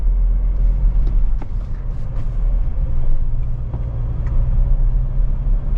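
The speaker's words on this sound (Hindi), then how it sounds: "Let's shift it into second gear." A Mahindra Thar Roxx engine drones loudly and steadily as the vehicle is driven on a mountain pass road, with a deep, continuous low rumble. No voices.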